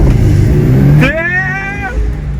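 A car with a COBB Stage 1 tune and launch control set to 4,000 RPM roars loudly while held at launch revs, then launches toward 60 mph as the engine note climbs, heard up close from inside the car.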